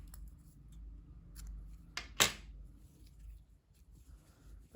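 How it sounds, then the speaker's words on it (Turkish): A single crisp snip of scissors cutting grey yarn during crochet work, close and sharp, preceded by a softer rustle and set against quiet handling noise. "İpliği burada kesiyorum"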